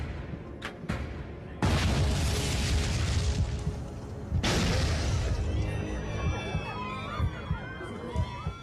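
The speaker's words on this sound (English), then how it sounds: "Two explosions rock the plane." Two heavy explosions aboard a Japan Airlines airliner in a crash reenactment, each a sudden loud broadband blast followed by sustained roaring rumble, with faint shouting and alarm tones in the cabin afterward.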